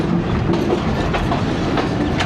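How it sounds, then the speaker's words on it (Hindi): The Green Line passenger train pulls into platform 3 at Karachi Cantonment railway station, with a close, steady rumble and rhythmic wheel clatter over the rails and no voices. "3 नंबर प्लेटफॉर्म पे जा रही है वही ट्रेन लहराते हुए।"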